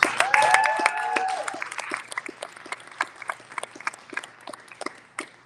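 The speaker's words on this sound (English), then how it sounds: "We want to applaud them first." An audience at a live literary reading in a Houston ballroom breaks into applause that starts fuller, then thins into scattered, separate claps, with a brief voice-like tone near the beginning.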